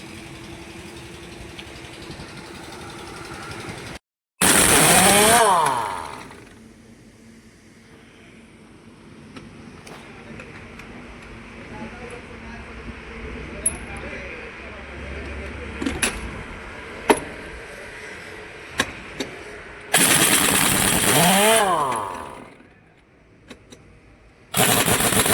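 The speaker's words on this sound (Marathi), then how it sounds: "आता बोल्ट खोलायचे." Loosening the wheel bolts to change a punctured car tyre on muddy ground, probably with an impact wrench, two long loud rattling bursts several seconds apart, with faint clicks between them and a steady background hum.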